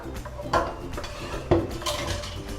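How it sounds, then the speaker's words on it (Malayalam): Rice flour batter for Pesaha appam being mixed in a vessel, with a few distinct clinks and scrapes of a utensil against the pot over a soft background, close by. "അരിപ്പൊടി കലക്കി വെച്ചതും കൂടെ ചേർത്ത് കൊടുത്തിട്ടുണ്ട് ഒന്നുകൂടെ ഒന്ന് മിക്സ് ചെയ്തെടുക്കാം"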